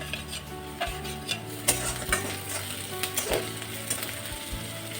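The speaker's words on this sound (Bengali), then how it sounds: "পেঁয়াজটা আমার ব্রাউন কালার হয়ে গেছে। আমি এখন দিয়ে দেব আদা" Onion and ginger frying in a pan for a potato and cauliflower dry curry, a steady close sizzle with regular scraping and clinking strokes of a spatula stirring against the metal.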